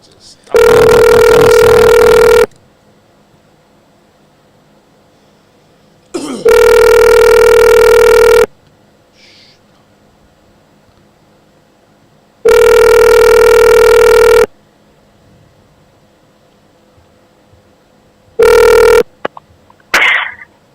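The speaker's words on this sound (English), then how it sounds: "Let me call Joe, and maybe it'll work better the other way." Outgoing phone-call ringback tones repeat loudly and evenly, roughly two-second rings separated by about four seconds of silence, with a short final ring and a brief click and noise at the end.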